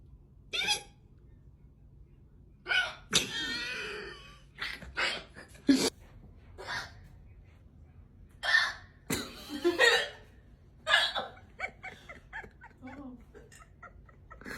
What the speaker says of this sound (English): Those are not normal hiccups.